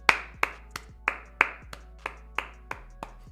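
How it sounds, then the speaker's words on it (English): The Charlotte Hornets bench claps politely at a basketball game: about ten sharp, sparse, evenly spaced hand claps over a few seconds, moderately close, with no talking. "They're sitting quietly and politely clapping."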